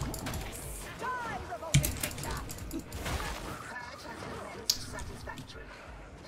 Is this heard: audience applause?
no